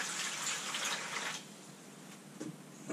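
A cleaning solution is poured into a container beside an oak barrel being treated, a steady splashing pour that runs for over a second and then fades to a quiet trickle with a few faint drips.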